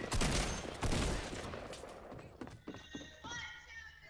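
Rapid bursts of video game gunfire crackle loudly at first, then give way to scattered thumps and clatter, with excited voices talking over the action.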